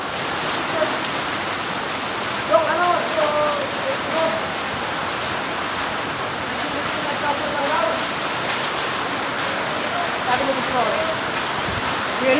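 Dense, steady patter of hailstones striking surfaces, continuous throughout, with wind noise and faint voices talking in the background.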